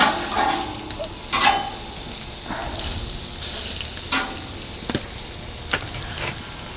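Food sizzles on a Solo Stove cast iron grill over a wood fire, a close, steady crackle with several sharper scraping and tapping bursts as it is turned, and no voices.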